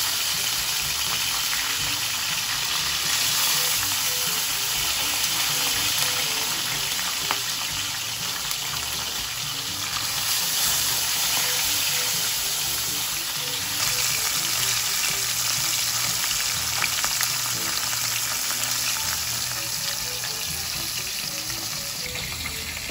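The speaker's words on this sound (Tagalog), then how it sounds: "At magpiprito na ako ng isda mga kadilag habang nakasalang yung escabeche." Fish fries in a pan of hot oil for escabeche, giving a steady, dense sizzle that crackles on without a break at close range.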